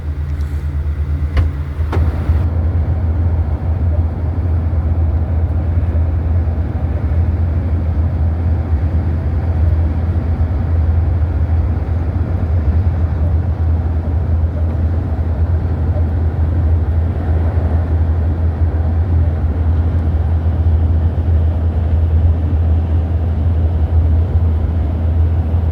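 Inside the air-conditioned cab of a recovery vehicle on the road, carrying a Mk3 Cortina with a blown head gasket, a steady low engine and road drone hums loudly throughout with a constant airy hiss and no voices.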